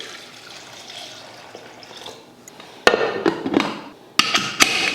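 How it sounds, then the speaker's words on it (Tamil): Water is poured into a pot of lentils with garlic, onion, tomato and turmeric for cooking; after a quiet start come two short bursts of splashing, gushing liquid. "அடுத்து தண்ணி சேர்த்துடலாம்"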